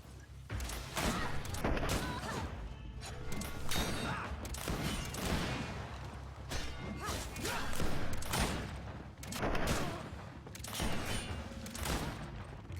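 Rapid gunfire in the video game Greedfall, with bullets deflected by a blocking enemy, heard as repeated bursts of sharp shots and metallic impacts in uneven clusters, fairly loud and continuous for several seconds.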